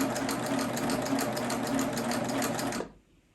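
A sewing machine stitches a t-shirt hem in a steady fast whirr of needle strokes, running loud and close for nearly three seconds before stopping.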